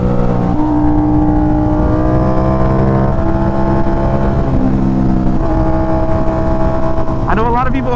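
A middleweight sport motorcycle being ridden near Seacliff Beach, its engine droning at a steady pitch close up with heavy wind rush, and a brief rise in revs near the end.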